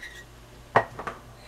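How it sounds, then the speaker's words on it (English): Cookie dough for chocolate cookies scraped out into a bowl, a few soft scrapes and light knocks against the bowl, close and fairly quiet over a low room hum. "And we're gonna scrape this out into the bowl."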